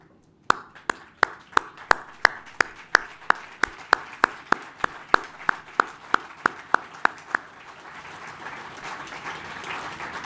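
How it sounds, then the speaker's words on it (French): An academic audience at an opening session in Namur gives standing applause for a departing colleague: sharp, evenly spaced rhythmic claps in unison ring out in a large hall, then dissolve into a swelling wash of scattered clapping. "ma plus forte demande d'applaudissements dans le contexte présent"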